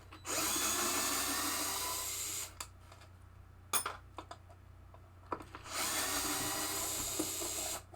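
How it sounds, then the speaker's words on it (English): A power drill backs screws out of the head of a 1974 Gottlieb pinball machine. It whirs loudly in two sustained close bursts, and sharp clicks and clatter from handling fall in the quieter gap between them. "So it's 8, 9, 10, 11, 12 screws you have to remove to get this out."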